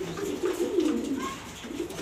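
Mili pigeons in a loft give soft, low, rolling coos, close by and moderately quiet, over a faint background hum.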